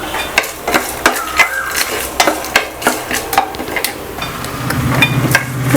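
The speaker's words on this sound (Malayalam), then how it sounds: "ഞാനിപ്പോൾ 1 പിടി കപ്പലണ്ടി ചേർത്ത് കൊടുക്കുന്നുണ്ട്." A handful of peanuts frying in a pan for poha upma, with loud repeated clinks and scrapes of a spoon stirring in uneven rhythm over a soft sizzle that swells toward the end.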